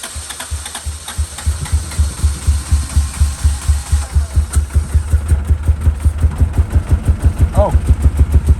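A car engine cranks over and sputters into a rough, uneven idle with rhythmic chugging pulses and a backfire through the intake during start-up. The sound is loud and close, with people's voices faintly mixed in.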